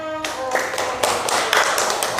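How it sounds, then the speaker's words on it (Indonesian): A short burst of clapping from a class of children, a dense patter of hands that begins abruptly after a brief tone and continues to the end. "Tepuk tangan semuanya."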